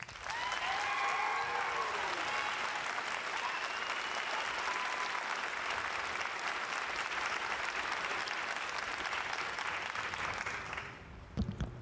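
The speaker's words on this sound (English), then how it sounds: "please join us in giving these fine soldiers a round of applause" A large audience claps steadily in sustained applause at a Fort Benning infantry graduation ceremony, holding for several seconds, then tapering off to a few scattered claps.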